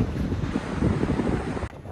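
Strong wind gusting outdoors on a cold coast near the water in Aveiro, buffeting the microphone with a loud, steady low roar that drops briefly near the end; no voices.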